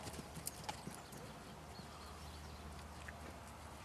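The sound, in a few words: horse hooves clip-clopping during riding lesson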